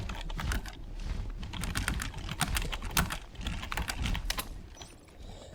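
Close, quick keystrokes clatter on a computer keyboard in uneven bursts, with brief pauses between runs of typing.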